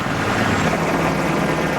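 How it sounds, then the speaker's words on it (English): A UH-60 Special Forces Black Hawk helicopter roars steadily, its loud, continuous rotor and engine noise filling the scene with no talk. "None more so than the UH-60 Special Forces Black Hawk."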